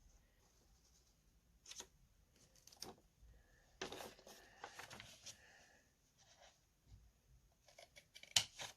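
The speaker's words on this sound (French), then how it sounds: "vous allez couper juste ici votre papier de couleur ou peu importe ce que vous avez pris." Scissors snip through coloured paper for a cardboard photo frame in a series of sharp, close cuts, irregular bursts separated by quiet pauses.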